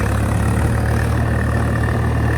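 Old Swaraj 855 tractor engine running on a farm field being readied for soybeans, a loud, steady diesel drone with a low rhythmic throb, close and unbroken.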